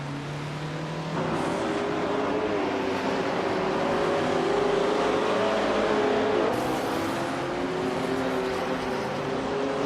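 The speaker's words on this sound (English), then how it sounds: "1977 Aston Martin Voit 8 Vantage" A 1977 Aston Martin V8 Vantage racing in a video game, its engine droning loud and close with a steady tonal whine that climbs in pitch as it accelerates, with a gear change midway.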